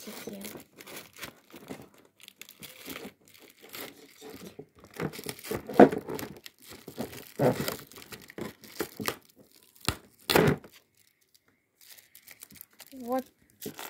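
Small paper packet from a Kinder Maxi Mix advent calendar being crinkled and torn open, with several close, uneven rustling and ripping bursts while a person talks.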